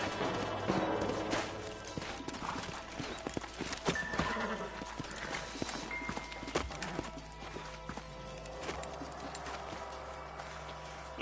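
Horse hooves clip-clop steadily alongside a horse's whinny and neighs in a PS5 video game, with dense outdoor game ambience and occasional clatter throughout.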